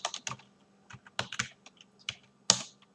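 Password keys tapped on a computer keyboard during a Dynamic DNS setup, a quiet series of about a dozen irregular clicks in short bursts, close by with no talking.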